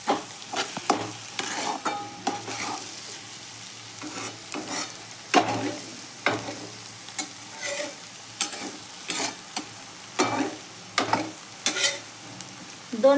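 Beaten eggs for egg bhurji sizzle in a pan while being stirred and mixed, a close crackling fry punctuated by repeated scraping strokes of the spatula in an uneven rhythm, with no talking.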